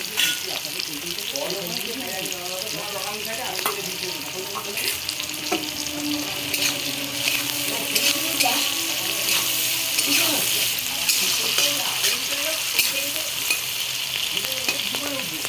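Chopped green chilli and onion with a pinch of salt fry and get stirred in a pan, making a busy, continuous sizzle with scraping stirs throughout, close up, while a voice talks over it.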